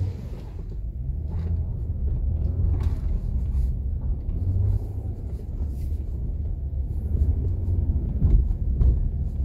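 A car driving on a road after a shock absorber check, heard as a steady low rumble of road and engine noise with faint thumps, continuous and fairly loud throughout with no voices.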